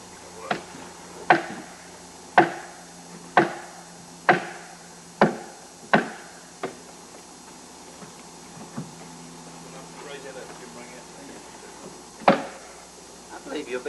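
Heavy hammer blows strike log cabin timbers, seven or eight evenly spaced thuds at first, then a few scattered hits, with quiet outdoor background between strikes.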